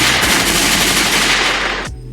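A gunshot sound effect plays as a loud, rapid burst of automatic gunfire lasting about two seconds, then stops abruptly with no voices.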